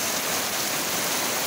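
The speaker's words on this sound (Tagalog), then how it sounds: "ang tindi ng ulan dito guys" Heavy rain pours down steadily in Surigao del Sur, a dense, loud, unbroken hiss of water with no pauses and no voices.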